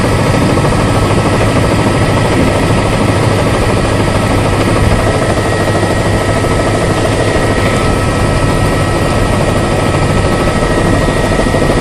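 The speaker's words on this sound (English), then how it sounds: "helicopter flying right by it" A helicopter flies close by, producing a loud, continuous broadband rotor and engine roar that stays steady and dense for about twelve seconds, with no talking over it.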